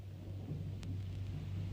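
Thunder with rain: a low distant rumble under steady rainfall, with one brief sharp crack partway through.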